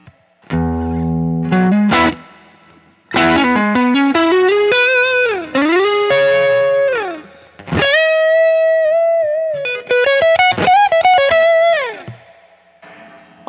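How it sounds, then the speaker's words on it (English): An electric guitar runs through a Fender Hot Rod Overdrive pedal into a Blues Junior amp set at the edge of breakup. It plays several bursts of chords and sliding bends with mild gritty drive, separated by short pauses, with no talking. "Let's see what it sounds like."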